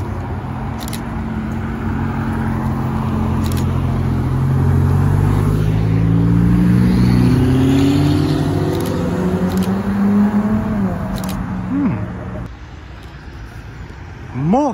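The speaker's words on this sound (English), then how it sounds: "Maserati MC20." A Maserati MC20 supercar drives past at a car meet, its engine note rising as it approaches and accelerates before fading, with other engine sounds and a brief rev at the end.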